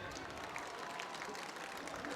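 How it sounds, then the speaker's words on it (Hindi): Applause as sisters clap for their brothers at a governor's speech during an IT exam event in Sindh, a soft, distant patter of many hands from a crowd. "बहनों ने भाइयों के लिए तालियां बजाई हैं"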